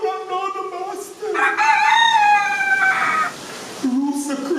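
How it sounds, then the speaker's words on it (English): A rooster crows in a long, loud cock-a-doodle-doo that rises and holds before falling away, with a second call starting at the end, heard close amid a dramatic rainy nighttime scene. "The rooster crowed."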